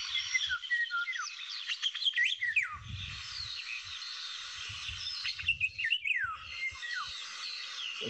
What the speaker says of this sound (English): There's two birds singing there.